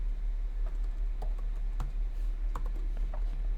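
Typing on a computer keyboard, a quick irregular run of soft key clicks over a steady low hum, close and fairly quiet.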